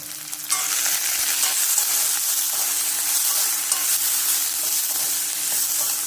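Onion frying with turmeric in a pan, a steady close sizzle with faint stirring scrapes running throughout after a brief quieter start.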